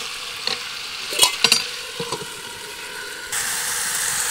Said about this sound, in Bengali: ভালো মতো নাড়াচাড়া দিয়ে কষাই নি